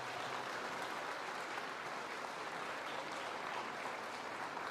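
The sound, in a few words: audience applause for the JROTC drill team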